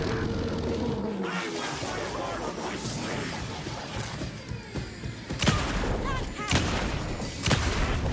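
Enemy gunfire in the video game Alan Wake 2, with sharp shots cracking out at irregular intervals over a dense, busy game soundscape, several louder bursts near the end.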